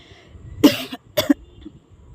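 Two sharp coughs, about half a second apart, close to the mic with quiet background between them.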